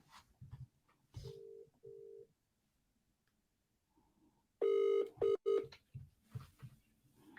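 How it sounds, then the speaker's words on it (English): A telephone rings during an online video call. Two short, even electronic ring tones come first, followed by a much louder series of clipped beeps, with faint low murmurs between them. "Matt, I'm calling you on phone."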